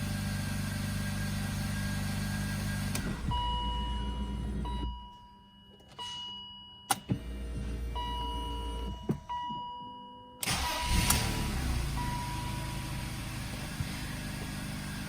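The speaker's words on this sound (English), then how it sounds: "Okay, that is idling normally." BMW E39 with an M54 engine idling at a steady low hum with electrical whine, briefly dropping away mid-clip before resuming, with a few clicks and knocks over the idle.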